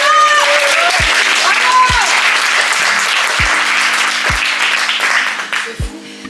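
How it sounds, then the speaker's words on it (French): A conference audience claps steadily and loudly for several seconds at a talk on mental health and faith, with a few low thumps and a voice briefly over the start, the clapping thinning out at the end. "on peut applaudir pour ça"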